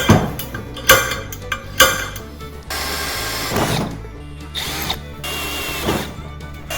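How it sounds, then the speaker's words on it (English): Grinding metal-on-metal drilling with harsh bursts and clunks, a hand drill biting into a scrap steel plate in uneven pushes, close and loud. "I just used a step drill bit because this hand drill just won't turn a hole that big"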